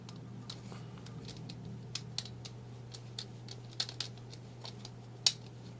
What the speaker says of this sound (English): I'm going to screw the fan with the logo facing outwards back in with the screws that came with it